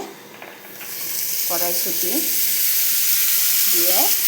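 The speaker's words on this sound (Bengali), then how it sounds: "মাছ রান্না হচ্ছে" Fish cooking in a pan with potato, tomato and green peas, spiced with turmeric, chilli and cumin: a steady close sizzle with a few brief scraping stirs, no talking.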